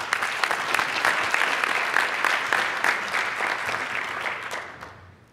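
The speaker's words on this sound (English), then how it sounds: "Another round of applause for everybody that came up and spoke." A conference audience applauds after a session of lightning talks, a full, sustained round of clapping that holds steady and then fades out in the last second.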